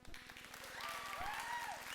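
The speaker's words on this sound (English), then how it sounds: "just kind of a sound of applause" A church congregation applauds during a sermon, producing a continuous, moderately faint wash of clapping that runs through the whole span, with a thin whistling tone drifting over it.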